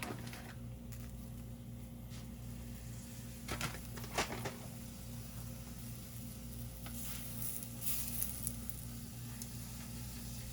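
A tortilla with cheese for a quesadilla fries in hot oil on high heat, giving a steady, quiet, close sizzle with a few louder crackles and scraping touches from handling the pan, and no talk.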